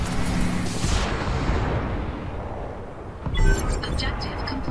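Mech weapons fire during a Battletech skirmish, heavy booming blasts with a long rumbling decay, then another sharp burst of fire, while a voice speaks over it.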